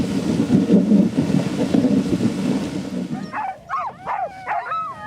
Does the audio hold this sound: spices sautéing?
no